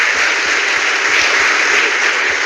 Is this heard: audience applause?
yes